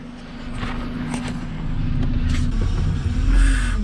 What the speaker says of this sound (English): This power steering pump is complaining quite a bit. It needs oil